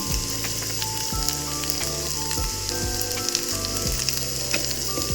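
Small shallots frying in hot oil in a pan with ginger and green chili for Kerala fish head curry, a dense continuous sizzle with crackles, steady and close, along with faint clinks of a utensil, with no talk.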